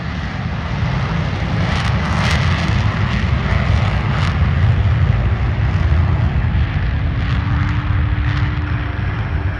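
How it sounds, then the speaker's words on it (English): Blue Angels diamond formation jets rolling for takeoff in afterburner at an air show, a loud continuous roar that holds steady throughout with no voices heard. "Off brakes now, burners ready now, and the Blue Angel Diamond is rolling"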